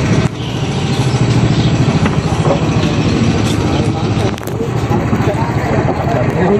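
A boat's motor drones steadily at close range, a continuous low rumble with voices occasionally audible over it.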